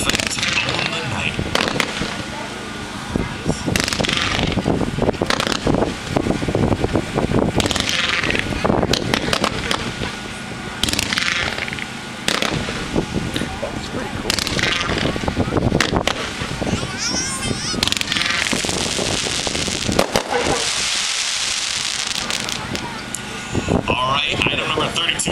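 Consumer fireworks from a Winda demo burst repeatedly over about 25 seconds, a dense run of loud crackling, popping breaks and whooshing shots, with voices murmuring in the background between the bangs.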